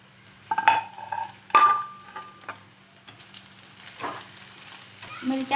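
Green chillies and onion fry in a pan for street-style anda bhurji, a steady close sizzle broken by a few sharp clatters and stirring scrapes against the pan, with no talking.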